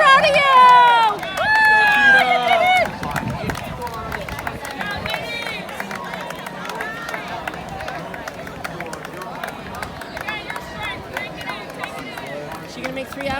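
A large crowd lines the route of a running race, a marathon near the three-hour mark, with a steady roar of cheering and babble and a louder swell at the start, voices shouting over it.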